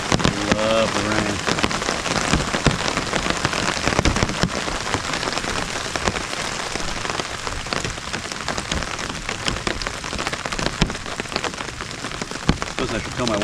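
Steady heavy rain falls during a thunderstorm at a hammock campsite, a dense continuous patter of drops hitting nearby surfaces, loud and close throughout, with a brief voice near the start.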